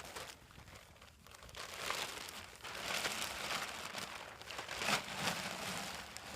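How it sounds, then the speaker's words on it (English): A sturdy plastic bag crinkles and rustles as it is fitted into a bucket toilet, with steady close crumpling and a few sharper crackles throughout. "How I set these up is I take a really good plastic bag,"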